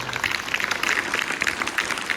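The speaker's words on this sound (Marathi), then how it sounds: "ज्यांनी खरं काम केलं त्यांच्यासाठी एकदा जोरदार टाळी झाली पाहिजे" A crowd at a village notebook-distribution event in Sukewadi applauds, steady dense clapping throughout the short stretch at moderate distance, no speech over it.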